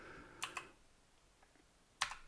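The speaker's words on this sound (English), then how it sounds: "So I was typing, but nothing happened." Keys on a computer keyboard are typed in a few quiet, separate taps, two close together and then another short pair after a pause, heard alone.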